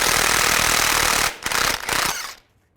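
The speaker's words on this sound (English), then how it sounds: "Take a 24mm socket, take this nut off." A 24mm socket on an impact tool spins a nut off the front suspension of a 2002-2009 Chevy Trailblazer, a loud continuous hammering rattle that stops, gives two short bursts, then falls silent.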